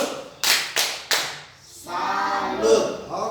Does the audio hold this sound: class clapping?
yes